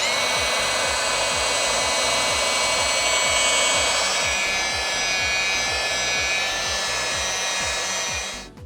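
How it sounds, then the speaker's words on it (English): A rotary polisher works the sanding marks out of the paint on a barn-find Pontiac LeMans, giving a steady, close whirring hiss with fast rhythmic low thumps that winds down at the end. "it's time to go ahead and polish those sanding marks away and see what we're left with"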